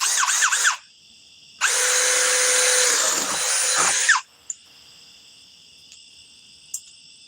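A Ryobi 2nd gen cordless tool with an Edge battery cuts plywood: a short whine, a pause, then a loud sustained high-pitched cutting burst of about two and a half seconds, followed by faint ticks.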